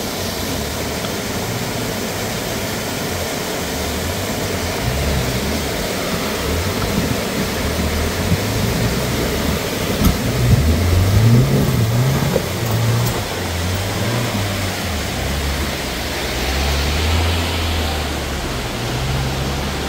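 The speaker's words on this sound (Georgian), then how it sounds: "მოდის ახლა ყველაზე პატარა მანქანა" A small car comes up a mountain road on the way to Salome's Mountain near Rkoni, its engine a steady low drone under broadband wind and road noise that swells a little toward the middle.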